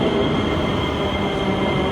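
A metro subway train heard from close by, a loud steady rumble with a constant high whine of motors and wheels and no pauses, with no voices over it.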